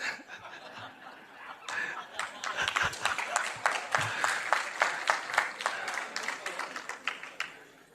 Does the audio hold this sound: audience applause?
yes